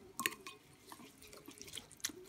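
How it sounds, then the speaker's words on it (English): Water being added to a mustard and herb chicken bake sauce with cider vinegar: a few quiet drips and small splashes, close and soft, with faint liquid trickles and no talking. "I'm going to add a little bit of water in there as well."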